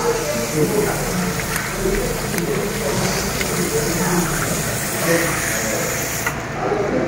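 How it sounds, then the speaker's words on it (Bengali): Tap water runs steadily as hands are washed at a wedding-house meal, a continuous close hiss with a murmur of voices and crowd noise underneath. "আগে একটু হাতটা ধুয়ে নিই।"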